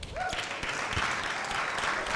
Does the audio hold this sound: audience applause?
yes